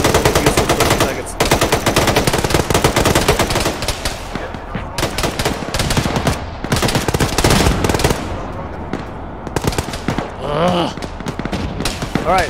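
Sustained automatic gunfire in the Arma military sim, loud and near, with dense bursts of machine-gun fire crackling almost continuously. Brief pauses and voices come through beneath the shooting.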